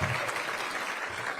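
Audience applause at an anti-monopoly summit, steady dense clapping throughout, fairly loud and close with a faint crowd murmur and no clear speech.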